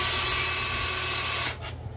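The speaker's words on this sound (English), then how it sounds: "I like to use my heavy duty drill to get these guys off." A heavy-duty drill loosening Loctite-secured axle bolts on a Onewheel Pint X whines loudly and continuously up close, then stops abruptly and leaves a brief mechanical rattle.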